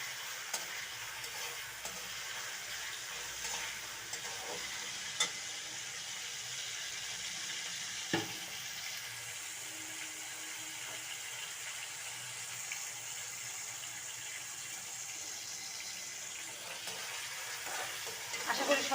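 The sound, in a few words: hilsa fish in mustard paste sizzling while cooking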